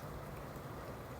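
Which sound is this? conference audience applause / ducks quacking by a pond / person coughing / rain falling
rain falling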